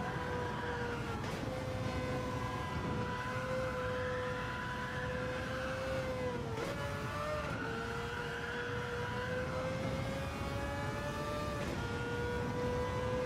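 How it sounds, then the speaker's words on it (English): A race car in Gran Turismo 7 drones steadily at high engine pitch, with the tone dipping and shifting partway through as it brakes and gears down, then holding steady again, loud and continuous. "I don't know why I'm braking there and gearing down"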